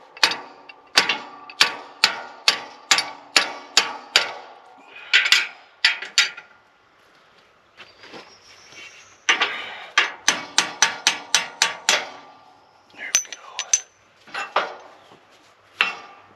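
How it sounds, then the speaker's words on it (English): A towed cultipacker clanks out sharp, rapid metallic knocks in irregular bursts, loud and close, with short pauses between clusters. "that cultipacker is quite unmistakable"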